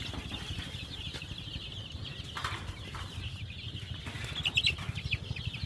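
Chickens on a poultry farm keep up a dense, steady clucking throughout, with a few sharper calls and a brief flutter standing out near the end.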